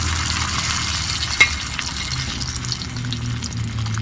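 Fish frying in hot oil in a Tamil-style fish fry, turned over in the pan: a steady close sizzle throughout, with one brief scrape or clack as the piece is flipped and no talking.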